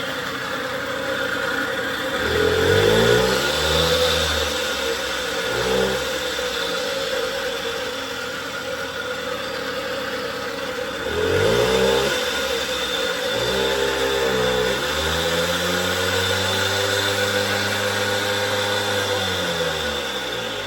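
A 1977 Puch Maxi Sport moped with an E50 engine that had been seized idles and revs nearby, its pitch climbing and falling in repeated throttle blips over a steady buzzing idle, with no talking.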